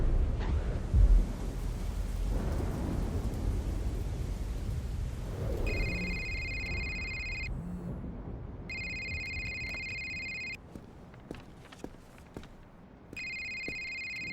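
Heavy rain pours with a deep rumble of thunder early on, a dense steady hiss under low booms, then a telephone begins ringing in repeated bursts over the continuing rain.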